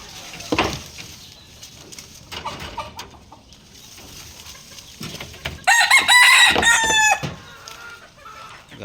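A Black McRae gamefowl rooster clucks in short bursts, then lets out one loud, close crow that trails off, with scattered scratching and farmyard noise around it.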